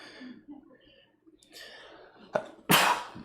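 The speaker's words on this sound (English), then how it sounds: "I'm going to sneeze and then I'm going to walk you through it" A man sneezes once, loud and close, with a short sharp inhale just before, after some quiet breathing and faint speech sounds.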